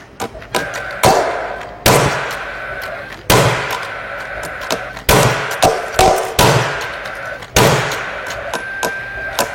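Hammer blows driving nails race against the sharp shots of a Paslode nail gun on a building site, a series of loud, irregular impacts, some in quick clusters, with occasional voices between them.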